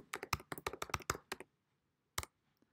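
Computer keyboard typing in an Excel spreadsheet: a quick burst of about a dozen crisp, close key taps over a second and a half, then silence and one more isolated keystroke, with no voices.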